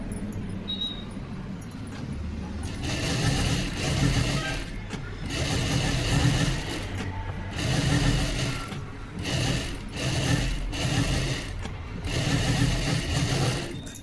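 Electric sewing machine stitching a katori blouse, running in several loud bursts of rapid whirring separated by short pauses, with no talking.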